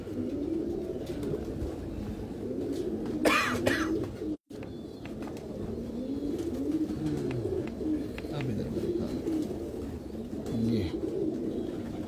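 Heera Laal breed pigeons coo softly in low, rolling phrases through most of the stretch, with a brief bright chirp and a momentary dropout early on, while a voice talks intermittently nearby.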